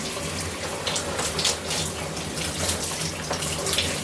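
Warm tap water running steadily into a bath or shower at close range, a continuous splashing hiss with small fluctuating spatters and no talk.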